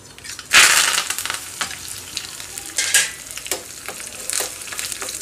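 Crushed garlic and curry leaves sizzle and spit in hot oil for tamarind-leaf dal, with bursts of crackling as the pan is stirred, close and lively with no voices.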